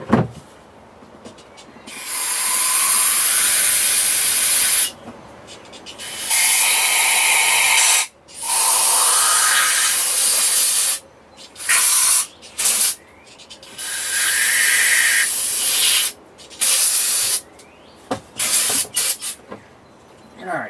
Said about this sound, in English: all I'm doing right now is just cleaning out the slider pinholes with some brake clean